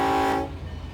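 An AI-driven train sounds its horn at a maintenance crossing in the Run 8 V3 train simulator game, a loud, sustained horn blast that cuts off abruptly, leaving a low engine rumble.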